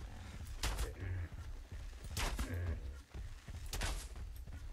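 Muffled gunshots fire in irregular clusters in ARK: Survival of the Fittest, faint and low, with scattered thumps in between.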